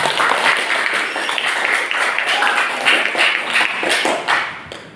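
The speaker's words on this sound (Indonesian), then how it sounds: "Oke, tepuk tangan untuk Guntur." Audience applause at a school guidance session on managing emotions, a dense, steady burst of many hands clapping that runs the full length and tapers slightly near the end.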